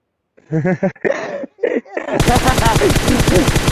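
Rapid automatic gunfire from PUBG Mobile, a loud sustained burst of dense repeated shots following a few short vocal sounds at the start.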